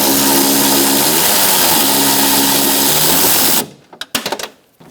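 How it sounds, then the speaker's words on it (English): Power tool with a 10mm long socket spins out window regulator bolts on a 2002-2006 Honda CR-V, a loud steady whirring run that cuts off, followed by a few short bursts. "using a 10mm socket, long socket, you're going to take out these two bolts"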